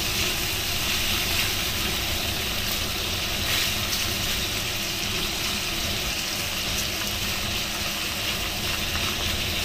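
Tofu frying in a pan gives a loud, unbroken broadband hiss and crackle that stays even throughout, close up and with no talking over it.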